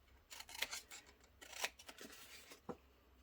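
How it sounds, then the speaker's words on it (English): Very large scissors cutting paper, a series of crisp snipping and rasping cuts in irregular rhythm, close and quiet with no talk. "on this bit with the world's biggest scissors."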